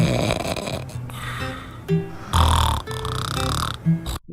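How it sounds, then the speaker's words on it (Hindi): A husband snoring loudly in an Indian air-conditioner advertisement, with several snorting, rasping snore sounds of different types in quick succession, close and mostly alone with music faintly underneath. "Но мой муж знает, как сделать 5 типов храпа."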